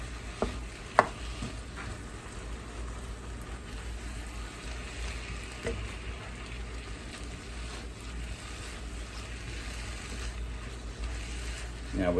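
Ground turkey meat frying in a pan gives a low steady sizzle, broken by a few sharp clicks and scrapes of a metal utensil stirring against the pan.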